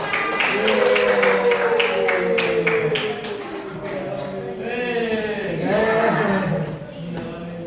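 Classmates applaud a student group stepping up to present in a classroom, a burst of clapping at the start that fades under overlapping talk and voices.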